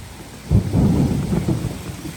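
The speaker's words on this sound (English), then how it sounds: "I don't think they can handle the pelting of this hail." Hail pelting down in a thunderstorm: a dense, steady roar of impacts that swells sharply after half a second and stays loud and unbroken to the end.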